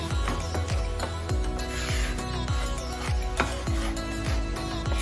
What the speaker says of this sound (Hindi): इसको हम स्पैचुला की सहायता से अच्छे से मिक्स कर लेते हैं